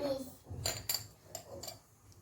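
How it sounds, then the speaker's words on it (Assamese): Coriander and other spices dry roasting in a pan for a pumpkin pickle, stirred with a spoon: several scattered metallic clinks and scrapes, fairly faint and close, with a voice talking underneath. "এতিয়া মই এইখিনি মছলাখিনি মই ড্ৰাই ৰোষ্ট কৰিম"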